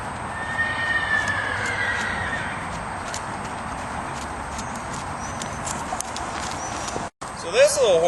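A young, lead-trained mustang at a horse sanctuary trots along with soft hoof clip-clops, while someone talks over the steps and a brief whinny rises near the end.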